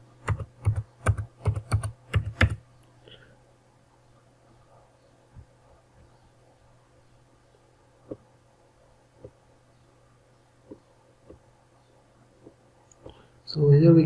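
Quick bursts of keystrokes on a computer keyboard rattle out at the start, followed by a few sparse, isolated clicks over a low hum, with a brief louder noise at the very end.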